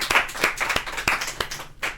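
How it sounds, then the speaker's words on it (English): A small group of people clap in a brief, uneven burst of sharp close handclaps at a reunion gathering. "Round of applause for food."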